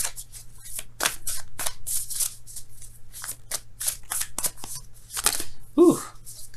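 Tarot cards are shuffled and handled up close in quick, papery riffles and flicks, a string of short bursts with pauses between them, while a person speaks intermittently.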